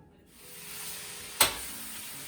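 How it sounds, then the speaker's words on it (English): Kottu roti with vegetables sizzles steadily in a hot pan while being stirred and turned, a soft continuous frying hiss with one sharp scrape or clack partway through. "I'm just going to keep turning this until everything is combined together, cooked together"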